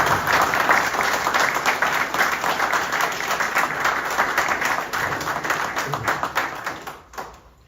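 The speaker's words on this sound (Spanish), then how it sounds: "Así que les pido un aplauso" Sustained applause from a large crowd, dense and steady, gradually tapering off at the end.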